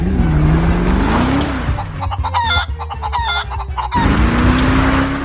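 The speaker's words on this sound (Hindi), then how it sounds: "ये मुर्गियाँ रिजवान भाई की दुकान में पहुंचा दे।" Chickens cluck and squawk in a delivery truck in the GTA 5 video game, fairly loud and continuous, with a vehicle engine droning underneath.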